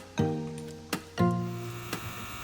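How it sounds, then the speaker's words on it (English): A White Rodgers 8A05A-101 furnace control relay gives a sharp click and then a steady buzzing hum. A second click and a fresh swell of buzz follow about a second later, with fainter clicks between. "we have a furnace that's making a noise"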